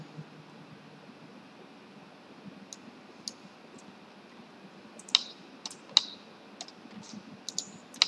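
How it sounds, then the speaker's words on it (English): Keyboard shortcut presses and mouse clicks on a computer, sparse faint clicks that grow more frequent toward the end over a low steady hum. "I copy this file location, Ctrl C, paste it here, Ctrl V, enter,"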